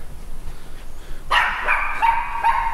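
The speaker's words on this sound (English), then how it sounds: "This dog's really not happy that I'm here." A guard dog at a deserted nightlife venue on Koh Samui, Thailand barks at an intruder, giving a few sharp, fairly close barks in quick succession after a quiet start.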